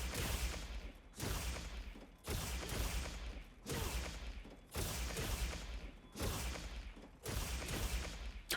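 Repeated heavy weapon strikes from a charge blade in a video game, about seven evenly spaced loud impacts roughly one second apart, each trailing into a brief clatter.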